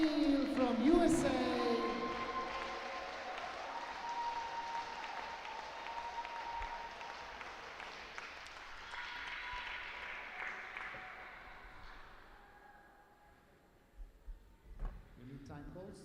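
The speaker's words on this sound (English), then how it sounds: "Please give a big applause for Angela Avendano from Colombia and Daniel O'Neill from USA." Applause from the crowd at a mixed pairs final fades slowly over several seconds, with a voice speaking over it and a few sharp knocks near the end.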